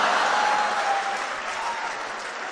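An audience at a Hindi comedy show breaks into sustained applause, a dense wash of clapping hands that stays loud and even before slowly tapering.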